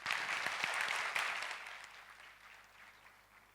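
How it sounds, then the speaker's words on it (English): Audience applause at a DevFest Pune 2024 tech conference session on AI, loud and dense at first, then thinning and fading over a few seconds. "you can put a huge round of applause for my team as well"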